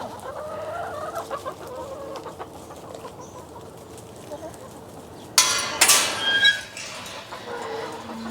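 Farm chickens cluck as they rush toward breakfast, soft scattered clucks under ambient noise, then a sudden loud burst of squawking and a crow-like call from a nearby bird.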